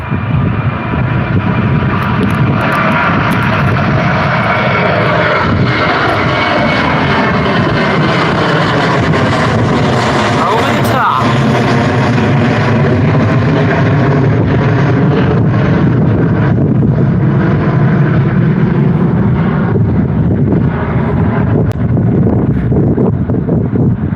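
Passenger jet taking off at Gold Coast Airport, a loud continuous roar of engines with broadband rumble and wind buffeting on the microphone, sustained throughout with no talk.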